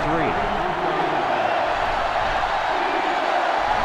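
Video game stadium crowd from NCAA Football 2005, Florida vs. Florida State, roaring in a steady, loud, continuous wash with a commentator's voice running over it.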